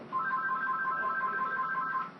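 A telephone rings steadily in a busy taxi-cab office, its warbling electronic ring repeating in a fast even rhythm throughout, fairly close and alone without talk.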